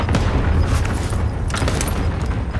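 Cluster strike explosions in a multiplayer shooter game, a loud, rumbling run of overlapping booms and cracks rolling through the whole stretch without pause.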